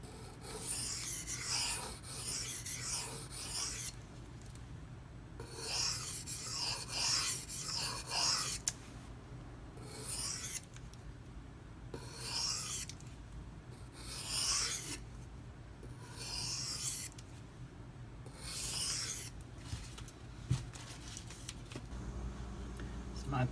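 A Microtech Socom Elite knife with a CTS-204P blade being honed on a 2500-grit silicon carbide stone: repeated soft, rasping strokes in a steady back-and-forth rhythm over a low background hum.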